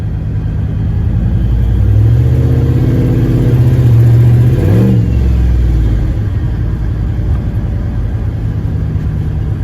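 A turbocharged LS-swapped Caravan engine revs loud and close, its drone climbing and dropping through hard gear shifts, with a sharp pitch sweep near the middle as it shifts, all over steady road rumble.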